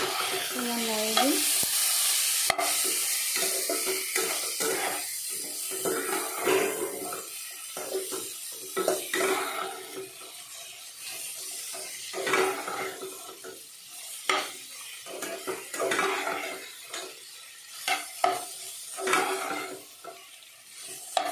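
Meat sizzles in a pan while being stirred, giving close, irregular bursts of scraping and clattering against the pan over a quieter hiss of frying.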